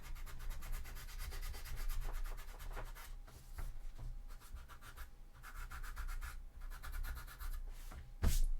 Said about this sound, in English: Right, let's have a little sand.